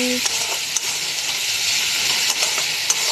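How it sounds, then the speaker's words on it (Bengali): Ginger, chili and cumin paste fries and is stirred in a pan, a loud, dense, continuous sizzle with a few sharp spatter pops, close up and with no talk. "আদা লঙ্কা জিরা পেস্টটা আমি দিয়ে ভালো করে নেড়ে চেড়ে নেব"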